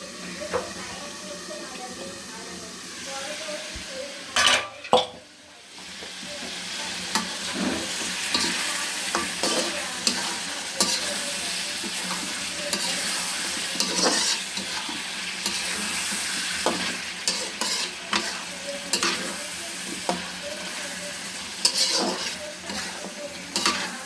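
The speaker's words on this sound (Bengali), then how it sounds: "লিজা দেখি মাংসর কী খবর কষাতে দিয়েছি" Meat sizzles steadily in a hot pan while a utensil scrapes and stirs it, with a few sharp clanks early on; continuous frying noise throughout.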